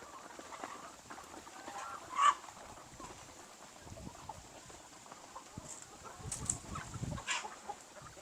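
Chickens in a hybrid breeding pen clucking as they are fed, a steady low murmur of soft clucks with a louder squawk early and a busier stretch of clucking toward the end, alone without speech.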